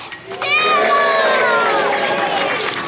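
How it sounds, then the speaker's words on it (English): A group of young voices breaks into a loud, rising practice cheer outdoors on a safari outing, sustained shouting that swells after a brief quieter start and holds near and strong. "let's hear a big practice cheer for Philip"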